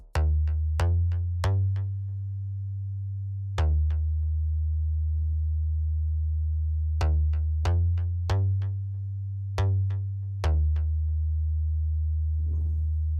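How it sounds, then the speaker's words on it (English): A Serum synth bass plays sustained low root notes in a repeating pattern, each note starting with a sharp attack and holding steady, loud and alone with no other parts. "we have a serum bass, sounds like this"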